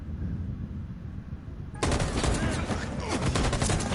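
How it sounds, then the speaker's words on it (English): Loud, dense automatic gunfire from a machine gun in the Detroit: Become Human video game bursts in suddenly halfway through after a quieter stretch, then rattles on steadily to the end. "He's got a machine gun."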